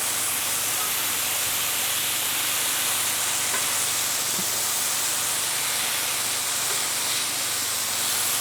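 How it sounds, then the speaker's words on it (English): Bulk sausages on a Solo Stove Steelfire griddle give off a steady, loud hiss and sizzle that holds throughout, with no clear scrape of the turning and no talk over it. "So we're just gonna start getting these turned pretty much in the same order I put them on."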